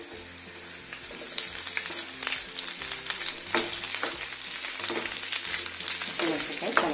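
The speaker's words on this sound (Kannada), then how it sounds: "ಹಸಿಮೆಣಸಿನ್ಕಾಯಿ ಚೆನ್ನಾಗಿ ಹುರ್ಕೊಳ್ಳೋಣ" Green chillies frying in a pan with garlic and ginger over a low flame, a steady close sizzle with crackling pops and occasional stirring scrapes running throughout.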